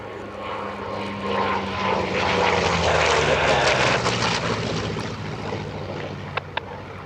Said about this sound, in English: Sweet sounds of a Pratt & Whitney R2800 horsepower engine.